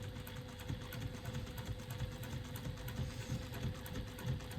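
A sewing machine stitching down the sides of a wristlet with a 3/8-inch seam allowance, a quiet, steady rapid whir with fast rhythmic needle clatter, continuous and close.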